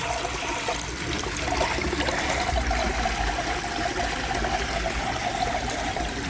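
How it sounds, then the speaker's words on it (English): Water glugs and gurgles inside a tank fed by a 1500 litre pump, a continuous rushing, bubbling flow heard steadily and fairly close throughout. "Hear that glugging in there"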